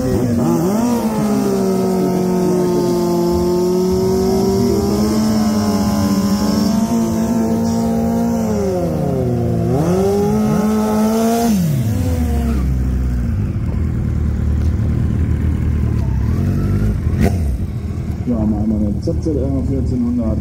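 A 200 hp ZZR 1400 drag racing motorcycle at an airfield drag strip screams through rising, shifting engine pitch as it accelerates hard, then fades into the distance; an announcer talks over the sound.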